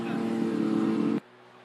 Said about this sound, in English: We can hear the engine of car number H26 from Regensburg lining up to go next